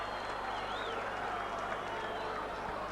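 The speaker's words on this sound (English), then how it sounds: "Big cheer goes up in the crowd as they see Wigan's new signing Steve Ella warming up on the touchline" Crowd at a Wigan versus St Helens rugby league Lancashire Cup match in 1985, broad steady roar and applause from a large distant stadium audience throughout, with no distinct voices.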